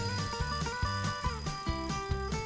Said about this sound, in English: And that's how an alarm clock rings.